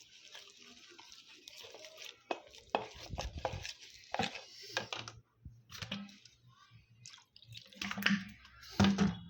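Potato snack batter being mixed by hand with water, with soft wet squelching and irregular taps against a bowl, close and fairly quiet, with pauses between bursts.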